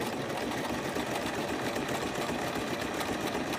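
Sewing machine free-motion stitching on fabric for a sugar skull pincushion, a continuous fast rhythmic whirr of the needle, close and steady throughout without pause.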